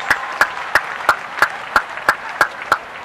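At a World Youth Day 2016 debate conference, hands clap in a slow, even rhythm of about nine distinct claps, close and steady, with a faint murmur beneath.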